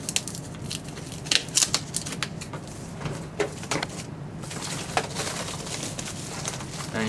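Packaging being unwrapped from a limited-edition Call of Duty Advanced Warfare Xbox One console, close crinkling, rustling and sharp tearing bursts over a quiet room.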